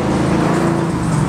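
A drag racing car roars past at close range, a loud, brief engine blast with a slight pitch shift as it goes by.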